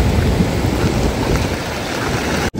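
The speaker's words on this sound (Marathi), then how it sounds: "पण लय जोरात पाऊस आलाय." Heavy rain pours down at the seaside with a large rock in the sea, a loud, steady, dense hiss that continues without a break before cutting off abruptly at the very end.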